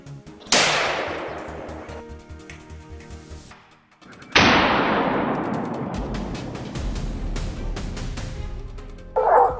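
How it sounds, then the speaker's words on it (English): Two loud gunshots boom out in a cornfield during a wild boar hunt, each followed by a long rolling echo that slowly decays, with a dog yelping faintly between them. "A gunshot rang out in the cornfield."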